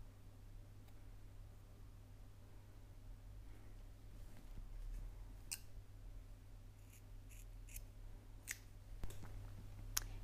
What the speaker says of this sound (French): je vais couper mon fil